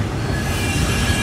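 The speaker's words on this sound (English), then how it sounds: "this is the first road crossing that the train passes on its way out" A train rolls through a road crossing in Miami with a loud, steady rumble of wheels on rail and a faint metallic squeal, close by and unbroken.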